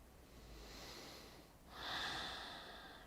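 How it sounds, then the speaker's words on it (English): Noisy deep breathing during a guided breathing exercise, drawn through the back of the throat like a gentle snore or growl; one soft breath is followed by a louder, rasping breath, close and alone. "And allow for the breathing to be noisy."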